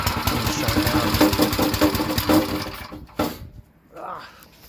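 A repaired engine runs at idle with a rough, rapid mechanical chatter, loud and close, then cuts out abruptly, leaving near silence and a faint noise.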